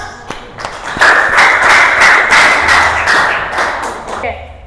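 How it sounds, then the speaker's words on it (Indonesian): A class applauds after a presentation, with a few scattered claps that swell into steady, close clapping for about three seconds and then taper off. Voices are heard briefly at the start. "Kasih aplaus."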